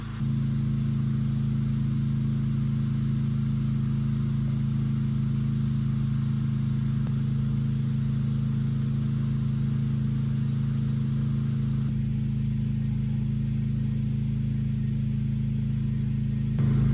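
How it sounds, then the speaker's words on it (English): A generator running at a carp fishing swim in Kent, giving a steady, loud, unbroken engine drone with a strong low hum throughout, no changes in pace, heard alone without talk. "Hopefully the noise isn't too bad from the generator."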